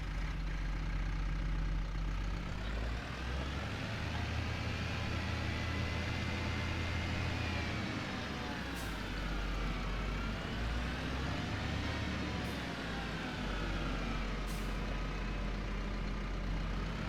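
A tractor engine in the Farming Simulator 25 video game idles in a steady, continuous low rumble at close range for the whole stretch, with no voices over it.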